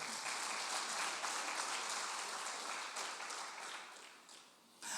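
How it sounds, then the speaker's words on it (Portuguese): A church congregation clapping for the Lord during a sermon, a dense sustained round of applause that holds steady, then thins and fades near the end before a brief swell. "Bata as palmas para o Senhor"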